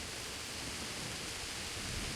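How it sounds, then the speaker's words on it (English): Relentless wash of heavy rain from a loud storm in Kingdom Come: Deliverance, a dense continuous hiss and rumble at constant level, without any separate thunder crack or speech. "Horrible storm."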